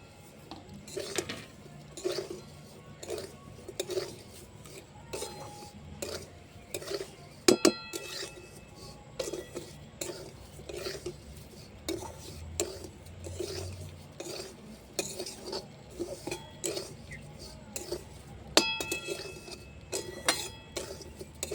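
Semai vermicelli is stirred and fried in a pan, with repeated scraping, clinking and rasping of a utensil against metal in an irregular rhythm, fairly faint and close, with no talking.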